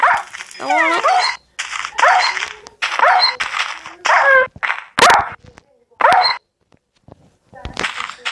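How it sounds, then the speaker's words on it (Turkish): Repeated Minecraft Pocket Edition dog barks and yelps in bursts, with a few brief gaps, set against game-like background sounds; no speech. "Benim köpeğimmiş."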